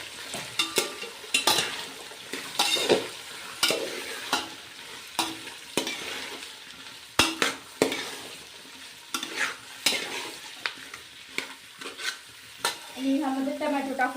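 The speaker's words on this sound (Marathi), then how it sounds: "आणि बीन्स आणि हे आपले मठार चांगलं मिक्स करून घेऊया" Vegetables including cauliflower, carrots, beans and peas are stirred in a frying pan for veg pulao, with repeated scraping strokes over a steady sizzle, close and moderately loud, with no talking.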